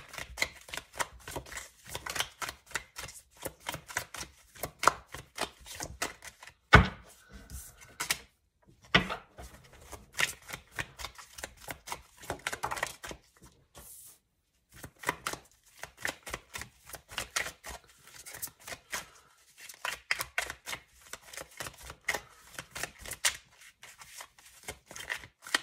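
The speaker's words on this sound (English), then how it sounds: "So I'm gonna just continue shuffling until I can draw you guys about 3 more cards" Tarot cards are shuffled in quick crisp bursts of riffling and tapping, close and fairly quiet, with brief pauses between rounds and no talking.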